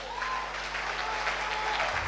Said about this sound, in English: Clap for Dr. Jesus.